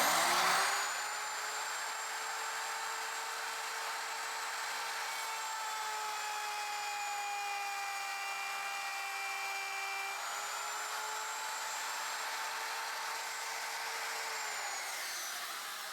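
Router cutting about an inch into wood along a straight edge for a platform bed, a steady high-pitched motor whine with a harsh cutting hiss, loud and close, holding a constant pitch with a slight dip midway, no voices.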